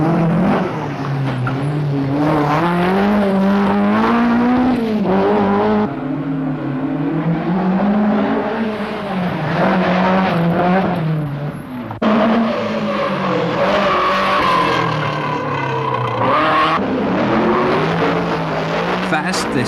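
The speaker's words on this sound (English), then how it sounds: "Then came the fabulous town stage in Ramelton, with Vincent Bonner flying low" Rally cars race through the Ramelton town stage of the 1983 Donegal International Rally, engines revving and wailing loudly as they pass close, rising and falling with gear changes while a commentator talks over the noise.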